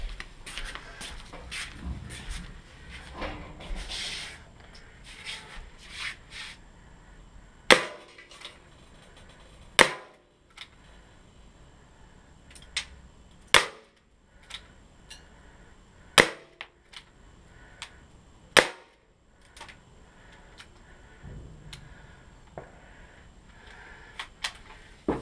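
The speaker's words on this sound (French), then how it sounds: "Et voilà, on a tiré les 8 coups." A Ruger Super Hawk 4-joule air pistol fires eight separate sharp cracks at irregular intervals, close and loud, with handling clicks and rustling before and between the shots.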